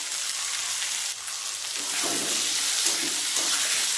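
Eggplant frying in a pan with cumin powder, a steady close sizzle that grows louder and busier partway through, with soft stirring scrapes and no talking.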